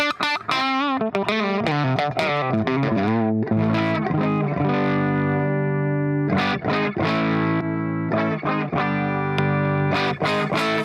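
Overdriven electric guitar with a thick humbucker tone runs through a Guitar Slinger Products RB1011 MKII booster pedal, boosted and distorted, strummed chords ringing out and sustaining, loud and close with no talking.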